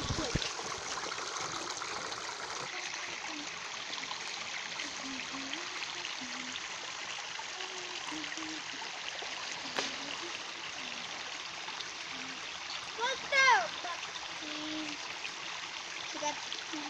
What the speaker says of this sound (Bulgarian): И днес ще ви покажа как минавам по една река.